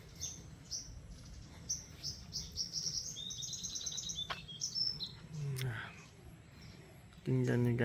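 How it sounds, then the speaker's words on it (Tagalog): Many birds chirp and trill outdoors, a busy layer of high tweets over background hiss, with a louder, closer call bursting in near the end. "Daming ibon"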